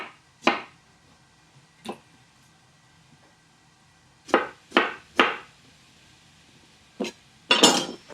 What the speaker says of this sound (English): all you do is cut off the ends, and you just cut them up into little chunks